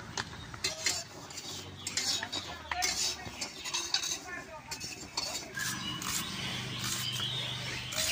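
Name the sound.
mixing onion and spices into mashed jackfruit seeds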